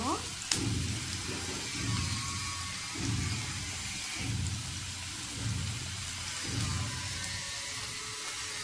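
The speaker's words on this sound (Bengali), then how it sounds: "কুচি করে কিছু পেঁয়াজ দিয়ে নেড়ে চেড়ে নিব।" Chopped onions sizzle and fry in a hot pan, a steady crackling hiss swelling in regular surges as they are stirred every second or so, with someone talking in the background.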